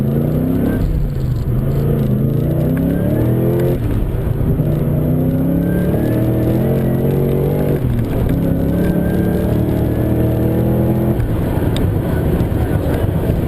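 A car accelerating hard from a rolling start, engine note climbing through several gears with audible shifts, loud and close from inside, with no talk.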